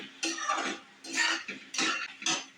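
Close, rhythmic scraping strokes of a spoon mixing masala into cooked raw mango in a pan, about five wet, gritty sweeps with short pauses between.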